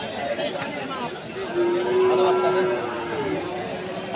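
At the Rustampur cow market in Rajshahi, one low, drawn-out moo rises from the cattle amid a steady hubbub of nearby voices and crowd chatter.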